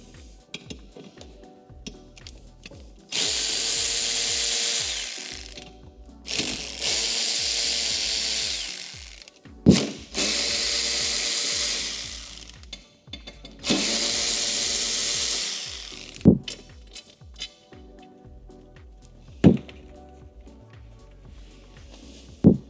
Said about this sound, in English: take out these two T30 screws on both sides of this crossbar right here